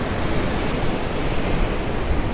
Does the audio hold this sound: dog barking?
no